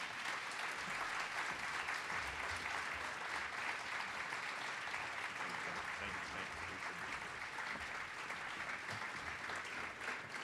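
Sustained audience applause at the 2019 University of Oregon Dr. Martin Luther King, Jr. Awards Ceremony and Luncheon, welcoming CNN contributor Bakari Sellers; steady, dense clapping from a large crowd, even and continuous throughout.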